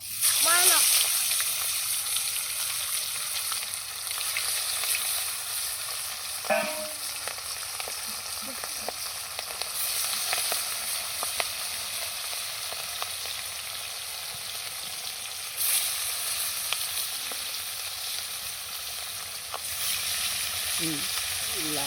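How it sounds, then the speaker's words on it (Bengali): Large pieces of tilapia fish frying in hot oil give a steady, loud sizzle and crackle that runs throughout, with occasional splatters and stirring sounds and a voice talking now and then. "মাছের পিসগুলো বেশ বড় বড় লাল লাল করে মাছগুলোকে ভাজবো"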